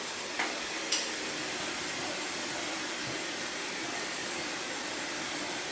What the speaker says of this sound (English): So we're getting there now with the blow dry.